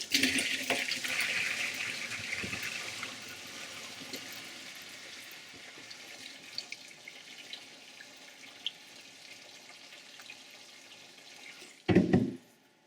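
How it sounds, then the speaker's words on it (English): Water pours steadily out of a pot, rushing at first and then thinning to a trickle, ending with a brief clatter. "we're going to pour off some of this water"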